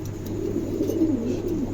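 A male pigeon of light silver colouring, offered for sale, gives a soft, low coo that rolls along steadily and fairly close, alone without talk.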